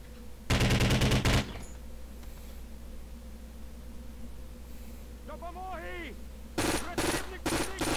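Automatic gunfire in the co-op shooter Conflict: Global Terror rattles in a loud burst at the start, then several shorter bursts near the end, with a brief faint voice-like sound in the quieter middle.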